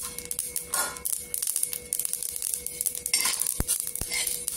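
Poppy seeds heat in a little oil in a pan, giving a soft, uneven crackle and hiss with scattered taps and scrapes of a spoon, plus two sharp clicks near the end.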